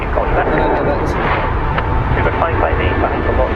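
A Boeing 747 jumbo jet at London Heathrow roars steadily, a broad, loud engine rumble heard close by while people talk over it throughout.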